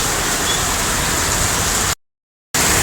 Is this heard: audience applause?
no